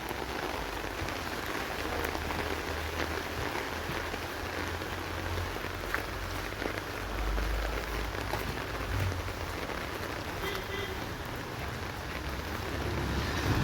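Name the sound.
heavy rain falling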